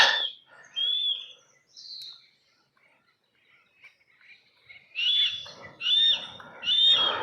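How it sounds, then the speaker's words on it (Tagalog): Birds call at Anderson Marsh State Historic Park, with bright chirping phrases at the start, a quiet gap, then a louder, denser run of repeated calls near the close. "mga tunog ng ibon dito"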